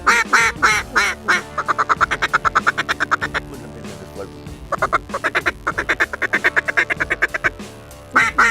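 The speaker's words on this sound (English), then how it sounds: "That's a canvasback." A canvasback duck quacks loudly and close in two quick rhythmic bursts of rapid, evenly spaced calls separated by a short pause, heard on a duck hunt.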